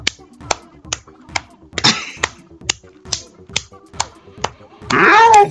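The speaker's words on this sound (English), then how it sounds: "I'm just clapping." Sharp, evenly spaced hand claps ring out one after another, about a dozen in steady rhythm, with a brief vocal sound near the end.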